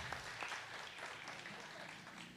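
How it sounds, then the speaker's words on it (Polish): A brief burst of dense applause from a festival audience at a royal singing event in Tykocin, steady and moderately loud throughout the short stretch. "Szanowni Państwo, wielkie brawa"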